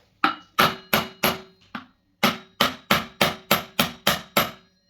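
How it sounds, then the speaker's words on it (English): A hammer strikes metal about a dozen times in quick, steady blows, with a brief pause partway through; loud, close and ringing. "I'll try whacking it with the hammer to convince it to come out."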